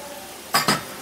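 A metal lid goes back onto a cooking pot of raw mango, two quick clanks close together, the second ringing briefly, over a quiet kitchen background.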